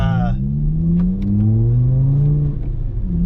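A VW Rabbit Mk5 engine rises steadily in pitch as the car pulls away from a stop, a loud close interior drone with rising harmonics and faint clicks on top.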